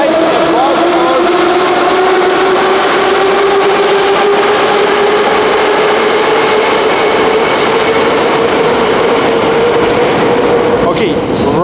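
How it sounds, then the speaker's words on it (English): Moscow metro train carriage interior, with a loud steady rumble and a rising motor whine running throughout as the train travels; faint voices murmur underneath. "inner sound so you can feel the real atmosphere in a train of the Moscow metro"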